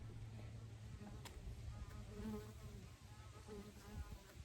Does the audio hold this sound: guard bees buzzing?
yes